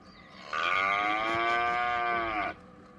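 A single human voice imitates a cow's moo, one sustained, loud, nasal call lasting about two seconds with a rich harmonic tone and an abrupt start and stop, alone without other speech.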